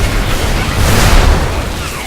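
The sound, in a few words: big explosion in video game Magicka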